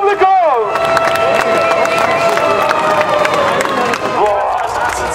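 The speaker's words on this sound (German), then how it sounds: "Einen riesen Applaus für das Publikum" A large crowd cheers and applauds at a tractor pulling event, the clapping and shouting loud and sustained throughout, with a whistling tone sweeping near the start and end.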